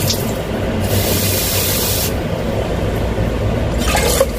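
Running water pours steadily into a pot of soaking rice as it is washed, a loud continuous splashing rush with no voices.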